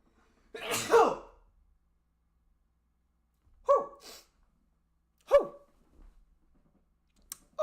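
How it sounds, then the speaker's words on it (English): One loud, wet sneeze close by, followed by a couple of quieter sniffs and short breathy noises. "Yo, I'm gonna sneeze."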